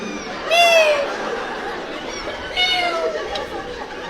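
A comedian on stage mimics a small kitten's plaintive meows, two high wavering cries separated by a pause, over a murmuring audience.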